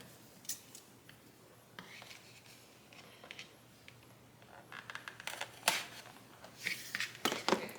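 Scissors snip through the tape sealing a Clue Advent calendar box: close, crisp cuts and cracks in irregular bursts, growing busier toward the end, with no talking.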